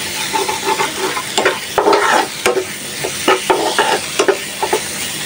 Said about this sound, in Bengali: চিংড়ি মাছটা ভালো করে কষায় নিলাম